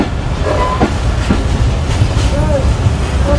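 Banglabandha Express, an intercity train with old coaches, rolling slowly on rails after passing Abdulpur junction, with a steady loud rumble and rhythmic clatter from close inside the coach and faint brief wheel squeals.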